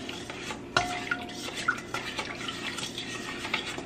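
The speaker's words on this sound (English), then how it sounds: "And I'm going to stir all this up." A spoon stirs a seasoning mixture for a grilling cookout. A clink starts it off, then soft scraping and knocking runs along steadily and close by, with no talk.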